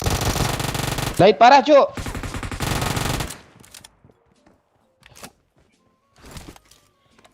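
Rapid machine-gun bursts in a shooting video game, loud and dense for a few seconds, then falling away to a few faint scattered shots, with a voice speaking briefly.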